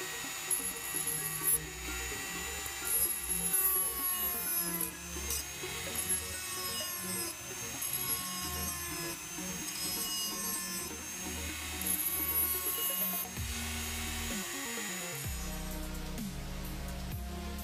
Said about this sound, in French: Vous découperez ensuite le gros du travail à la pince pour finir les petites parties à la Dremel.